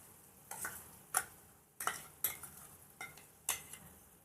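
Peanut, coconut, sesame and cashew paste going into a mushroom masala curry, heard as a series of sharp spoon clinks and scrapes against the pot, spaced irregularly over a quiet low background.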